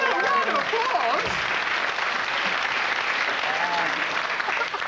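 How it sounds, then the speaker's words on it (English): Studio audience applause at a light entertainment comedy show, a dense steady roar of clapping throughout with some voices and cheers mixed in early on. "Let's make a round of applause."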